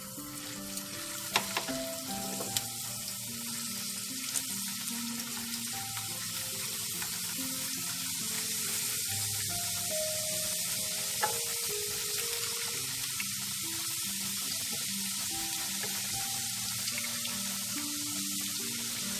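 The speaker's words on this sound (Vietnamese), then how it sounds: "Rồi mình sẽ cho khoai tây vào mình chiên ha." Potatoes frying in hot oil for a vegetarian stir-fried potato and mushroom dish, a steady dense sizzle that runs the whole time with occasional clinks of stirring, close and continuous with no talk.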